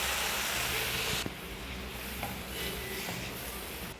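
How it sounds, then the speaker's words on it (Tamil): Onion malai gravy boiling in a pan on the stove, giving a steady, fairly loud hiss and bubbling simmer throughout, with a faint sharp tap partway through. "2 நிமிஷம் இது கொதிக்கட்டும், பார்க்கலாம்."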